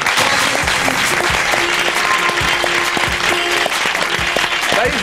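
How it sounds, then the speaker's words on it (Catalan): Studio audience applauding loudly and steadily throughout a Catalan television talk show, a dense wash of clapping close to the microphones with no gaps. "Fort aplaudiment."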